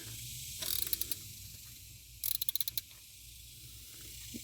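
A ratchet works the timing tensioner bolt on a 2003 Jeep Liberty, giving two quick bursts of rapid metallic clicking separated by a quiet pause.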